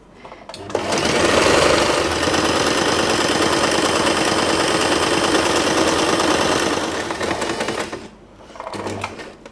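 Sewing machine stitching satin fabric for a scrunchie, a loud, close, steady rapid mechanical whirr running for several seconds before stopping, then a brief restart.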